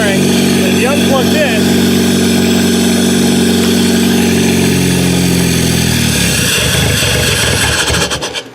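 A Kia car readied for a demolition derby idles steadily just after starting, a loud, constant engine drone with rough harmonics that holds for most of the clip before dropping away near the end.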